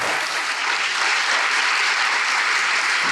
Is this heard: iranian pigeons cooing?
no